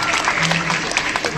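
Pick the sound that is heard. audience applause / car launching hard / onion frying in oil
audience applause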